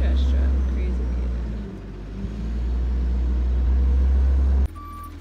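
Garbage truck rolls along a residential street with a loud, steady low engine drone that dips briefly and then cuts off abruptly near the end.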